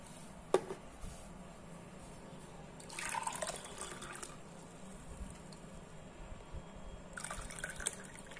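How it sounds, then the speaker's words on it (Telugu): Homemade lemon water is poured into a glass in two short, faint splashing bursts separated by quiet room sound. "సో ఇప్పుడు ఈ వాటర్ నేను ఈ గ్లాస్ లో తీసుకుంటున్నాను."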